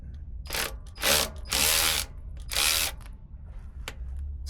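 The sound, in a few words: ratchet loosening bolts under a Ford F150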